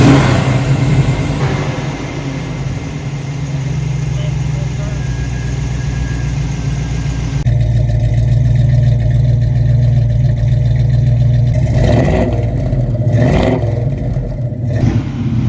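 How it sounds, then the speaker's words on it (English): Classic 1969 Chevrolet Camaro Z28 Rally Sport V8 running close by, a steady low rumble that swells with a few revs near the end, with people talking over it. "We're going to get a chance to hear this beast start up in just a little bit."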